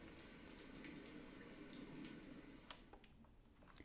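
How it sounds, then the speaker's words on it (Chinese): Recorded rain sound from a small white noise speaker plays as a quiet, steady hiss of soft patter, with a few faint clicks near the end. "然后这个就是下雨的声音"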